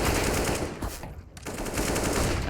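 Rapid automatic gunfire in a competitive CS:GO match on Dust2, a loud, dense stream of shots with one brief pause partway through before the firing resumes.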